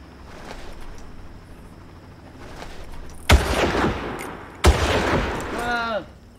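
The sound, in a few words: gunshots in Far Cry video game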